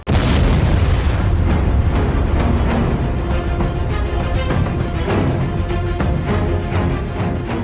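A cluster bomb blast in the Ukraine–Russia war: one huge booming explosion that hits at once, followed by a long rumbling roar with scattered crackling secondary pops, loud and sustained to the end.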